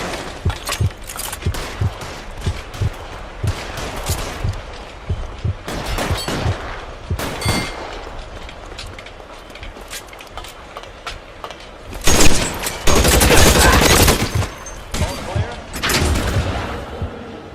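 A gunfire shootout in the video game L.A. Noire, with scattered sharp shots throughout and a heavier, louder burst of firing near the end, mixed with shouted voices.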